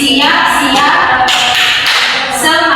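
Short stretch of a class's 'tepuk semangat' clapping cheer: quick rhythmic claps and taps mixed with a chanting voice, close and loud throughout.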